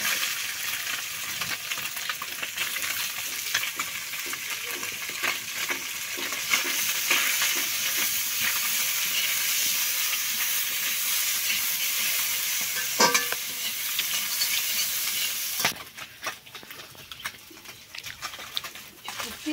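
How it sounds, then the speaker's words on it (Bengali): Onion and fish frying in oil in a pan, a steady crackling sizzle running throughout with stirring scrapes, the frying noise dropping slightly near the end while faint talk sits underneath. "পেঁয়াজ আর মাছটা ভাজা হয়ে গেছে, নামিয়ে দিই।"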